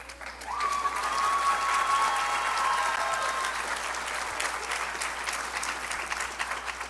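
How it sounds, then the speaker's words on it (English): A Dancing With The Stars studio audience claps loudly and steadily for several seconds, with a brief cheer near the start, then the applause gradually thins. "can you help me grovel by offering her a round of applause?"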